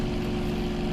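Aircraft engine drone in the World Flight VR flight game, a steady loud low hum with tonal bands, continuous and unbroken for the short moment, no voice present.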